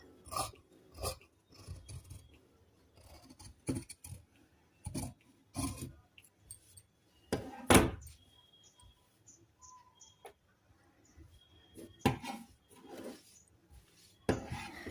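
Scissors cut through blouse fabric in a series of short, crisp snips and rasps, irregular and close, with quiet pauses between cuts.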